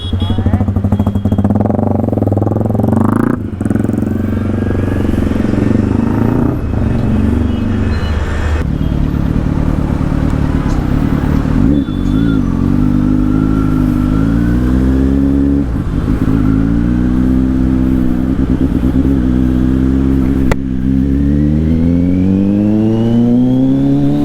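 A 2022 Kawasaki Z900 motorcycle engine on the move, loud and close, revving up and down through gears in repeated rising sweeps with a rough, growling exhaust note throughout.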